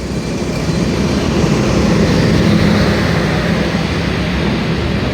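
The Benapole Express, hauled by locomotive 66-21, passes through Gandaria railway station in a loud, steady, close rumbling roar of wheels and coaches that lasts throughout, with no voices.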